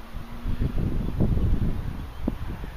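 Gusty wind rumbles and buffets a nearby microphone, a low continuous roar that rises and falls without letting up.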